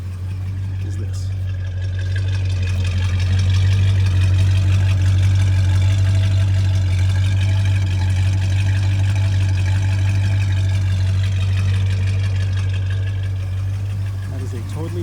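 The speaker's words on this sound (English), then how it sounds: "That is a totally bone stock exhaust system. Stock mufflers, tailpipes, everything." A 1969 Dodge Charger R/T SE with a completely stock exhaust, mufflers and tailpipes idles close by, a steady deep rumbling burble lasting throughout with slight unevenness.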